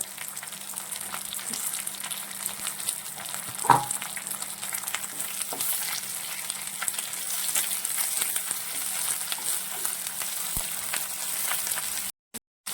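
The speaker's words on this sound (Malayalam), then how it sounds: "ഈ എണ്ണയിൽ തന്നെയാണ് നമ്മൾ മുരിങ്ങയില വഴറ്റിയെടുക്കുന്നത്" Drumstick leaves sautéing in hot oil in a pan, a steady, dense sizzle that runs on close and loud, with a few stirring knocks and no talk.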